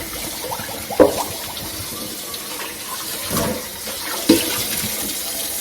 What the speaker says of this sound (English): And I'm just going to rinse it out.